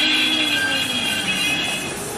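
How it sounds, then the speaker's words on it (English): Wheel slip on an ACS-64 electric locomotive: a sustained, loud metallic whine with high tonal squeal and rail rumble that fades slightly toward the end, with no voices. "And don't get me started on the wheel slip."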